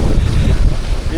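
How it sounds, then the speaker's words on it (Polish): Strong wind blows by the sea on the Croatian coast, a loud, steady buffeting rumble against the microphone, with no other sound standing out. "Mimo, że wieje."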